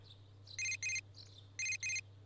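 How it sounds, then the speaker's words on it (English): A cell phone rings in the video game Persona 4 Golden, two pairs of bright electronic trilling bursts repeating in a quick rhythm over a low steady hum, with no speech. "Your cell phone is ringing."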